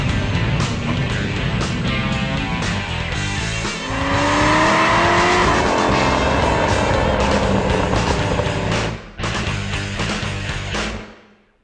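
A 2011 Ford Mustang V6 doing a burnout: a loud, close engine roar with tires squealing in rising, sliding tones, building and holding for several seconds, then a brief dip and more revving before it cuts off abruptly.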